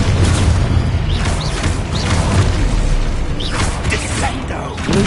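The Confringo spell cast in Hogwarts Legacy: dense, loud game sound of rumbling booms and crackling magical bursts layered with whooshing swells, sustained for several seconds.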